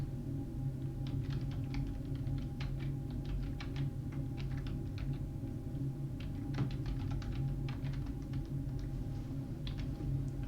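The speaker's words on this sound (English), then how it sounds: "Type a comment." Keys clatter in quick, uneven bursts on a computer keyboard as a short comment is typed, close and light over a low steady room hum.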